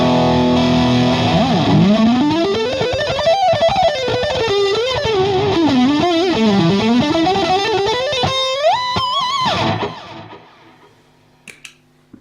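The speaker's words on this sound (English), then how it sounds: "here's the sound that I normally use with the Fender Yngwie Malmsteen Overdrive." Electric guitar driven through a Fender Yngwie Malmsteen Overdrive pedal plays a fast, sweeping lead line with wide bends and vibrato, loud and saturated, ending in sustained high notes that fade out, with no talking.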